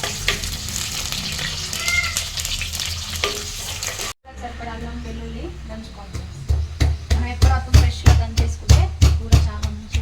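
Onions fry in hot oil for a mutton heart and gongura curry, a close sizzle that cuts off briefly partway through and then returns with a run of regular stirring clacks and scrapes, while a voice talks over it.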